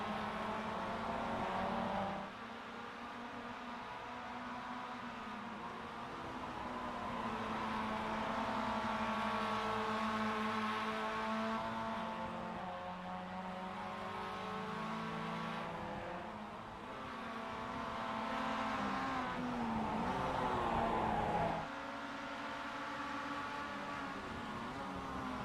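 Mazda MX-5 Miata race cars lapping Imola in the iRacing sim give a steady, buzzing engine drone whose pitch rises and falls with shifts and passing cars, with no voices over it.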